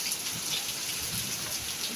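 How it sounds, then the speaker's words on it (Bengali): Heavy rain falls in a continuous soft wash of drops, heard fairly quietly and evenly throughout with no voices. "এত জোর বৃষ্টি নামছে"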